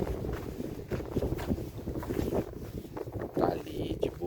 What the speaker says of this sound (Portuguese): o vento tá pegando forte.